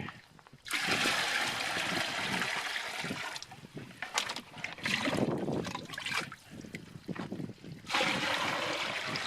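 Water gushes from a truck-mounted water tank into a bucket, a loud, close, rushing pour that surges and dips before swelling again near the end.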